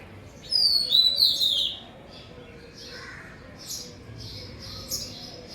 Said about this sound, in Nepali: धोबीमी चरा कराउँदै थियो, मलाई देखेर गयो।